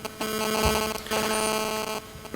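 Steady electronic buzz with a hum-like drone, broken by a short gap, resembling a mobile phone vibrating or interfering with a conference PA system, with no speech.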